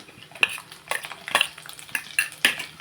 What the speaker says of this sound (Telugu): కొబ్బరి ముక్కలు బాగా వేగినాయి